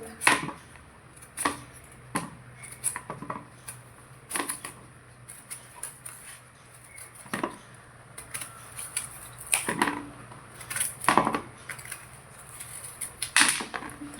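Bitter gourd is cut into small pieces with a knife on a board, making sharp, irregular chopping knocks, sometimes single and sometimes in quick clusters, close by against a quiet background.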